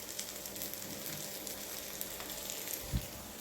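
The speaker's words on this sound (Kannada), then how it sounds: "ಈಗ ರಾತ್ರಿಗೆ ನಂಗೆ ಫ್ರೈ ಮಾಡ್ತಾ ಇದ್ದೇನೆ" Food fries quietly in a home kitchen pan, a soft steady sizzle with faint clicks and one brief low knock near the end.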